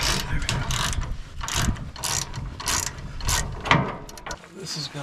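Hand ratchet clicking in rapid bursts while loosening long U-bolts under a barn find Ford F-350 6.0 Power Stroke, close and steady with metallic clatter and brief pauses between strokes.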